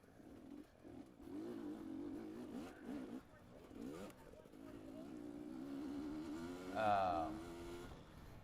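A dirt bike engine lugging in fourth gear during an Open D harescramble race at Let's Ride Ranch, a low, steady, fairly distant engine drone with a brief rise in revs near the end, under someone talking.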